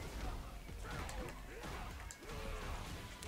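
Dense, loud hard-kick impacts and crashes from the Street Fighter 6 fighting game, with rapid strikes, whooshes and busy in-game effects layered together.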